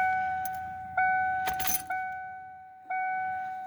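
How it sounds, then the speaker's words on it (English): Quantum 340lph electric fuel pump in a 1997 Mustang GT priming with the key cycled, a steady whine that starts, cuts off and restarts several times, with a brief clatter partway through. "Hear the pump kick on, turn it off, hear it again, turn it off, turn it on."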